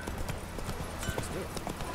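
Roach, the horse in The Witcher 3, trots along with steady, rhythmic hoof clip-clops that repeat evenly throughout over a soft game ambience.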